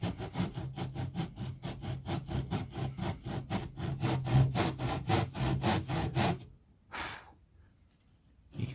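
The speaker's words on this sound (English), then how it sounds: "So I'll cut a slot each end, and then we'll carefully chisel a bit out." A hand saw cuts a slot into soft pine on an old A-frame timber ladder, with about twenty steady rhythmic rasping strokes, close and clear, ending with a couple of softer strokes.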